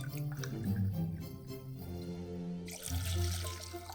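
A Negroni cocktail is poured into a small saucepan, a steady liquid stream running continuously and close, its pitch shifting as the pan fills.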